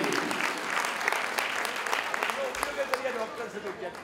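Applause from the audience at a Swaminarayan convention in the USA, moderately loud clapping that thins toward the end, as a voice begins speaking under the last few claps.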